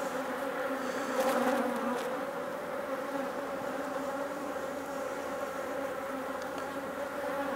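Honey bees buzz steadily around an open hive, a dense, continuous drone of many wings holding close and even throughout with no voices.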